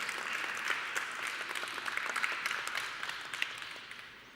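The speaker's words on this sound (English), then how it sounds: "A round of applause, and if Dominika is with us, please come joi" Applause from an audience at a design award ceremony as a winner is called to the stage, a steady patter of many hands at moderate distance, fairly soft and continuous.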